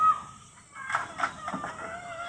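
Chickens on a small farm give a few soft, scattered clucks at a distance, quiet against a low background hum.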